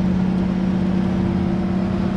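Steady broadband wind rush inside a Ford F100 pickup driving with the windows down, with a low engine hum underneath, continuous and loud with no talk.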